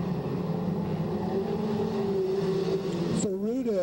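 A dwarf race car engine drones and revs at a sustained steady pitch on an oval raceway during a dwarf car nationals race. It is loud and near, then shifts in pitch at the end, while a race commentator talks over it.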